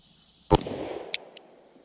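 A single loud, close gunshot at an outdoor shooting range cracks out and rings off, followed by a couple of faint metallic clinks.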